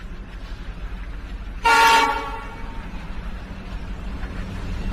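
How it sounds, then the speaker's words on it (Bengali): A train rolls into Ilford station: a single loud horn toot sounds briefly near the start, over a steady low rumble of the moving train that continues after it fades. "হেলে দুলে যখন আমাদের ট্রেন আইফোর্ড স্টেশনে ঢুকলো"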